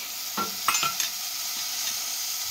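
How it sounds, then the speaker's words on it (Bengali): Chunks of potato, carrot and beet drop into a hot pan for pav bhaji and are stirred, a few close scraping thuds over a constant bright sizzle. "তো এবার আমি দিয়ে দিলাম আলু, গাজর, বিট,"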